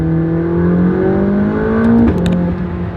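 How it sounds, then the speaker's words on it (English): Lamborghini accelerating hard, a rising engine tone that drops sharply on an abrupt gear change with a brief bang, loud and close with no talk. "when you push it, then on the gear change, you get this massive bang"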